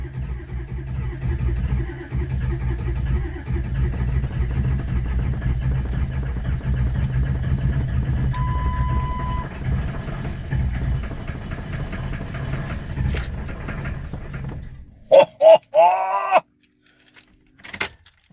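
A long-sitting Ford Super Duty Powerstroke diesel engine cranks steadily on its starter for about fifteen seconds, loud and close, then catches and fires with a few rough bursts before falling quiet.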